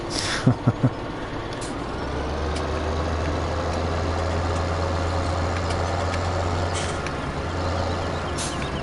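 Lamborghini tractor with the biggest engine option and wide tires in Farming Simulator 17, idling with a low steady drone, preceded by a few brief mechanical clunks and hisses.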